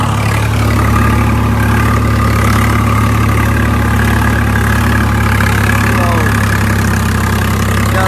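A loud, steady tractor engine under load while working a field drones continuously at close range, low and rumbling with a constant vibrating hum throughout.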